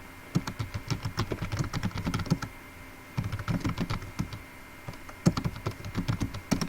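Steady bursts of typing on a computer keyboard while entering text in Microsoft Word, quick close key clicks in three runs separated by short pauses, with no talking.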